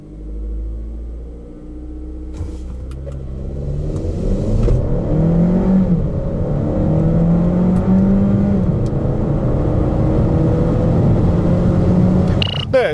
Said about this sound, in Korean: 우선 코나의 가속 성능에 대해서부터 한번 확인해 보시죠